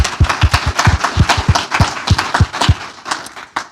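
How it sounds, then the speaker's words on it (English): A small seminar audience gives a round of applause, a handful of distinct, close-miked claps landing irregularly for a few seconds with no talking over them. "Let's have another round of applause for these folks"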